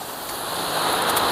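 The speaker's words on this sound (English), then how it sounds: "So we have reached to a beautiful waterfall" A beautiful waterfall on the way from Bhairahawa to Namche hisses as a steady, broadband rush of falling water, unbroken and fairly close for the whole short stretch.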